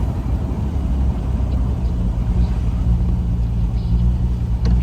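A 1968 Triumph TR250 rolls along the road, its engine a loud, steady rumble with slight rises in revs as it works up through the gears, close and continuous with no talking.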